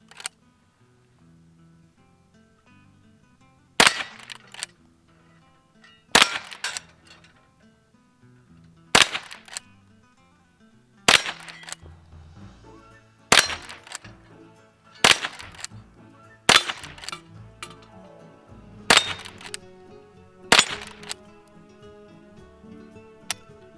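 Crisp, loud gunshots from a Henry lever action .22 rifle fired outdoors, about eight single reports spaced a couple of seconds apart, each a sharp crack with a short ring-off, and no talk between them.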